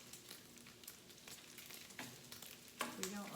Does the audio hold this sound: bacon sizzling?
yes